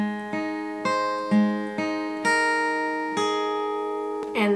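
Guitar picking a song's intro riff at a quicker pace, a clean run of about eight ringing notes in a steady rhythm, close and alone.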